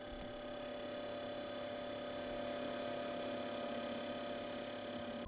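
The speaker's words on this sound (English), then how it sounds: "As far as the compressor noise goes, it was actually fairly quiet." A steady, low electrical hum from a SetPower AJ40 portable freezer fridge compressor drones on unchanged, quiet and constant, with no other sounds.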